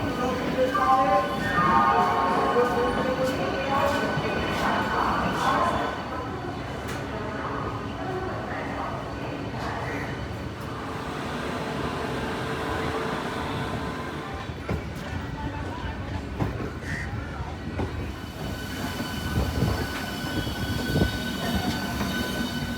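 A passenger train rumbles along the rails on the way to Tamluk, with a loud steady low roar, faint wheel squeal and rattling carriage noise while people talk nearby.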